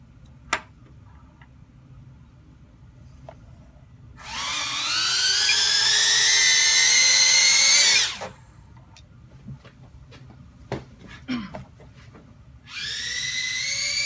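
Tiny Whoop drone motors spin up on a bench test, a loud high rising whine for about four seconds, then ticks and small clicks before the motors whir up again briefly at the end.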